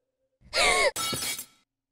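A mirror shattering in the Pocket Mirror video game: a short, bright crystalline burst with ringing tones, followed by a second crumbling rush of breaking glass that quickly fades out.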